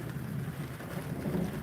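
Steady monsoon rain falling outdoors, a constant even hiss and patter that stays at the same level for the whole short stretch, with no voices.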